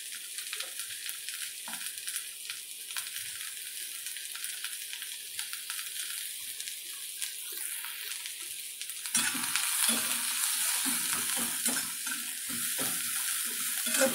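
Onion and coconut roasting in an iron wok, stirred with steady scraping and a soft continuous sizzle that grows louder and busier partway through, close up with no talk.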